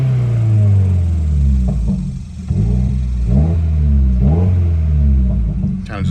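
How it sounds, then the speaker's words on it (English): Car engine revving steadily during a valve cleaning treatment, a loud, continuous rumble with a few rising surges of throttle close to the microphone. "just rev it up a little bit"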